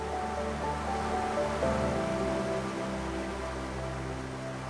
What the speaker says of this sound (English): We keep heading downriver and come to a large, expansive set of rapids